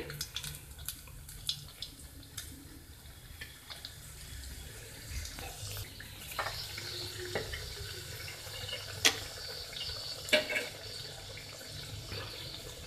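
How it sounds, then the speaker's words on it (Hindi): Spring rolls laid one by one into hot oil in a home kitchen pan over lowered heat give a steady, faint bubbling sizzle with small pops and crackles throughout, no talking. "तेल गरम करके हम आँच को थोड़ा धीमा कर देंगे और इसमें हम एक एक कर इसको उल्टी शेप से उल्टी तरफ से"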